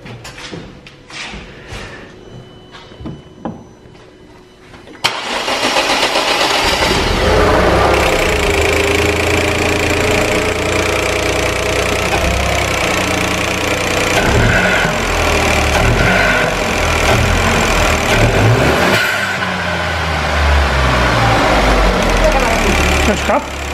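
A Dacia Sandero III fitted with a sport air filter starts up after a few seconds of quiet, then runs loud and steady with rising revs for nearly twenty seconds before easing off, with people talking nearby at the start.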